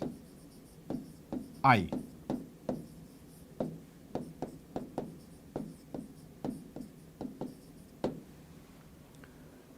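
A pen writes physics notes by hand in a quick series of close, dry scratching strokes at a fairly regular pace, with a voice speaking softly now and then.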